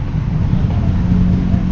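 Steady road traffic on a damaged street, heard as a continuous low rumble of vehicles nearby with no voices.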